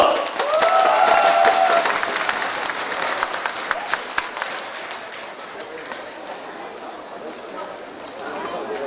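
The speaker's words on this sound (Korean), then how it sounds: "우리들의 분들께 큰 박수를 부탁드리겠습니다." Loud applause from a crowd at an outdoor political party rally speech in Daegu, a dense sustained clapping that swells early then gradually thins and fades, with crowd chatter and voices underneath.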